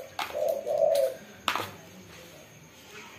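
A kept cooing dove of the derkuku, tekukur or perkutut type in Pesisir Barat, Lampung, gives a close, mellow coo phrase, followed by a sharp click and quiet surroundings, with no talking.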